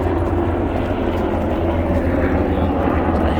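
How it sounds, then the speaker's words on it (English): A helicopter flying overhead at a seaside park, a steady loud low rotor and engine drone with a rumbling hum, constant throughout with no voices over it. "Thank you, helicopter."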